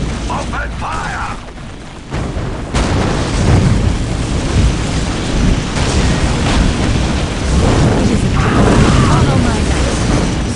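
Weapons fire in a Dawn of War: Soulstorm battle with the Sisters of Battle, dense continuous booms and mechanical clatter filling the mix, with voices shouting over it.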